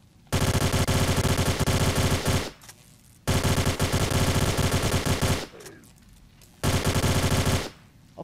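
Loud sustained bursts of automatic gunfire in the video game Tomb Raider: The Angel of Darkness, three long volleys separated by short pauses.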